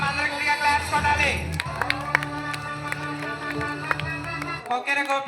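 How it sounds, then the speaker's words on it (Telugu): An audience at an outdoor Sankranti celebration claps in scattered bursts that grow into brief applause, with crowd murmur and a few cheers around it. Music also plays nearby and a voice talks over it at times. "అందరూ గట్టిగా క్లాప్స్ కొట్టాలి."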